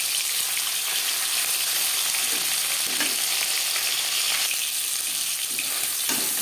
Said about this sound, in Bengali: ভাজা হয়ে গেলে অপর পাশ উল্টে দেব।